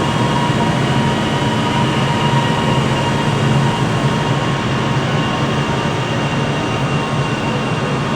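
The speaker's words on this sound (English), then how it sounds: "the 1840 Avanti West Coast service to Birmingham New Street" An Avanti West Coast train sits at Glasgow Central, giving off a steady, loud engine drone with a constant hum that holds unchanged throughout, no voices.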